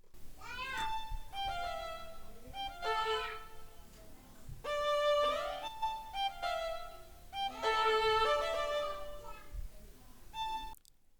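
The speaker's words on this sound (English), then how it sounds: "I then added a cello from SRX Orchestra" Sampled cello from the SRX Orchestra library plays a melodic line of sustained, bowed notes in separate phrases, loud and up front with no voices.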